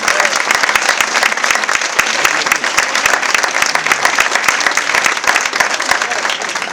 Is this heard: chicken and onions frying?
no